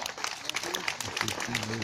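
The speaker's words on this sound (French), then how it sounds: "On va pouvoir l'applaudir bien fort." Crowd applauding at a sea lion show, continuous clapping from the stands with a voice talking over it.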